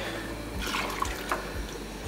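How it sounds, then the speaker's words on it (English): A glass of water is poured into a pot of red alligator sauce piquant, making a soft, brief splashing trickle with a few faint drips against quiet kitchen background noise. "my fourth cup is going to be a glass of water."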